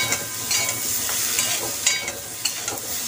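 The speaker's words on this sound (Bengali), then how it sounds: "এবার এর মধ্যে হলুদ দেব, হলুদও দিয়ে দিলাম, দিয়ে একটু নাড়াড়ি করব" Food fries in a pan with salt and turmeric just added while a utensil stirs it: a steady bright sizzle with scattered scraping clicks, close and continuous, with no voices.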